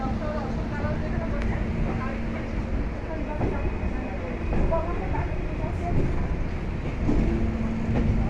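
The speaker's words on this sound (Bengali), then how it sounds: "অবশেষে ট্রেনের স্পিডটা কিন্তু বেড়ে গেল।" A passenger train runs along the rails with a continuous heavy rumble and rhythmic wheel clatter, swelling slightly louder near the middle and end.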